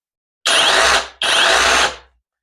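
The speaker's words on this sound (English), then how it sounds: "I also have the hammer drill mode right here as well, which is very useful." Two loud bursts of a SEESII cordless rotary hammer drill in hammer mode, each running about half a second to a second with a harsh rattling whine, close by.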